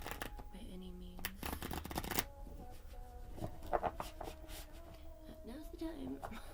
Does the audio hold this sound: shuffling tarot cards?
yes